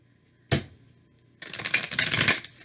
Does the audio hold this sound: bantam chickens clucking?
no